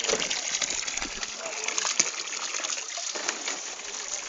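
A drinking water fountain runs in a steady, close gush, with a bright, hissing splash that holds evenly for the few seconds heard.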